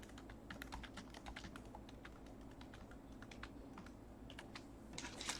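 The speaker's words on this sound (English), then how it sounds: "Got to type in 18." Steady, rapid typing on a computer keyboard, close and fairly quiet, with uneven clusters of key clicks running throughout and no talking.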